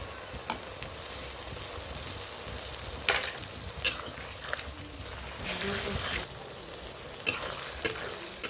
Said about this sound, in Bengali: এর উপর থেকে আমি আদা রসুন বাটা দিয়ে দেবো